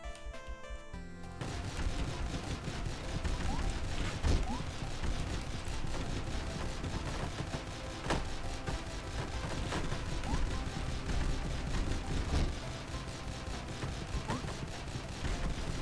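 Steady bursts of rapid gunfire crackle throughout, with occasional louder bangs standing out against a dense, continuous background of shooting, from the video game Dead Estate.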